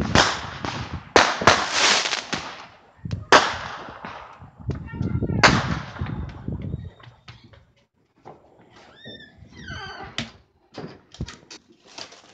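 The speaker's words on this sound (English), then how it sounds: "Don't judge me, but I'm kind of afraid of fireworks." Fourth of July fireworks go off in a series of sharp, loud cracks and bangs in the first half, followed by quieter, more distant pops with whistles and scattered crackles.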